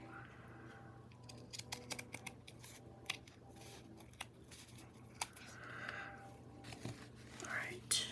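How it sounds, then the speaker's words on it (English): Scissors snipping a paper doily for a scrapbook page pocket, a series of small quiet cuts and paper rustles close by, with soft murmuring in the background. "I hate to cut this, though."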